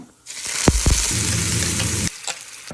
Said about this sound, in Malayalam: കുറച്ച് കടുക് ഇട്ട് കൊടുക്കണേ ഒപ്പം തന്നെ കുറച്ച് കറിവേപ്പില ഇനി അതിലേക്ക് നമ്മൾ ആ പേസ്റ്റ് അങ്ങ് ഇട്ട് കൊടുക്കണേ